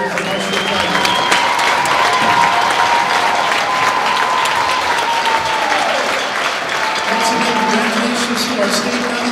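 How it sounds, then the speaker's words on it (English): Sustained crowd applause in a high school gym honoring Marshfield's state wrestling finalists and state champion, loud and continuous from start to finish, with faint crowd noise and a voice underneath. "One more round of applause for our career."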